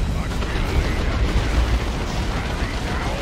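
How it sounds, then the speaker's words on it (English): Stun grenades and stick bombs going off in the Dawn of War 2 Elite Mod real-time strategy game, a continuous rumble of blasts and battle noise with no clear pauses between them. "Stick bombs, throwing some grenades"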